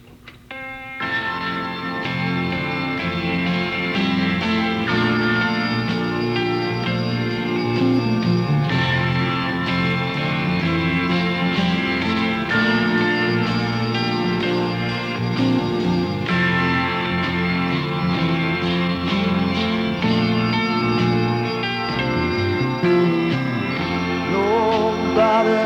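Joe Cocker song recording broadcast on a rock radio station, a full band with organ-like sustained chords and steady backing, playing continuously at an even level for about twenty-five seconds with no talking over it.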